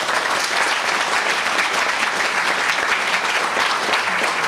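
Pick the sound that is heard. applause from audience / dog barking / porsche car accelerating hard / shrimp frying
applause from audience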